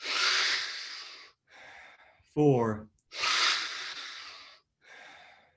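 People breathe deeply in a guided breathing exercise, with long, loud, airy inhales and exhales in a repeating rhythm, and a voice briefly counts between breaths.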